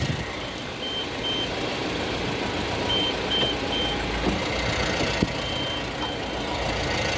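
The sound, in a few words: truck reversing into the loading gap, reversing beeps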